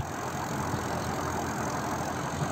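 The engine of a corn threshing machine runs steadily in rural Pakistan, a dense, even mechanical roar at moderate level with no breaks or talk.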